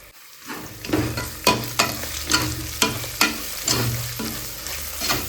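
Ingredients for coconut biryani being sautéed in a pan: a low continuous sizzle broken by regular stirring scrapes about every second, close up, with no voices.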